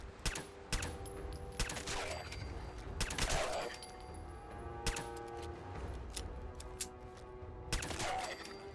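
Video game gunfire during a retreat, with scattered shots and bursts at moderate distance over a steady background din.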